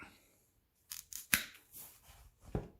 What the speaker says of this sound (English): Snip that bastard